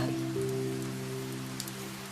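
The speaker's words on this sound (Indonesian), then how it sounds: "Pada malam itu, hujan turun sangat deras sekali." Heavy rain pours steadily through the night, a dense continuous hiss with a low hum underneath, unbroken and even in loudness.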